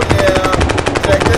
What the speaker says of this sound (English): now we got M16